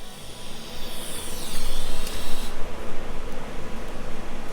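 An AC welder tacks aluminum with a loud, harsh, continuous crackling buzz that swells midway and holds steady, close and dense, with no talk.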